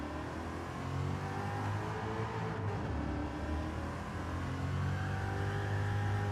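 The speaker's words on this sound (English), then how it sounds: "Wheel spin. You can hear it." A race car in Gran Turismo 7, a GR3 or GR4 class car, spins its wheels on a circuit, a steady loud engine roar with whirring tyre spin, continuous and without talk.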